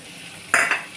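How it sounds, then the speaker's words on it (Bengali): A spoon stirs a mixture of tomato sauce, soy sauce and onion in a pan, giving two quick, close scraping swishes against a quiet kitchen background. "দিয়ে ওটা গুলে নিল একটু"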